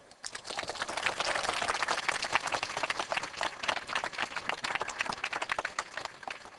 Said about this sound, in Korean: 우리 송진구 교수님께 더 큰 박수 부탁드리겠습니다